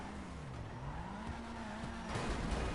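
A drift car in GTA 5 revs as it slides, its engine note wavering up and down while its tires squeal and skid, steady and moderately loud, growing harsher near the end.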